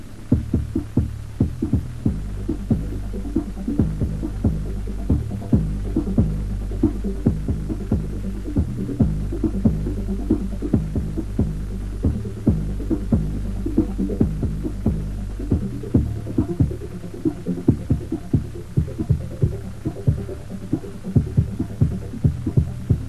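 Deep bass throbbing from a drag-racing car audio system still under construction, pulsing loud and steady in repeated sustained low blasts with brief gaps, bass only with no mids or highs.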